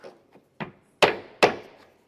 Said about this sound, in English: Use your block and hammer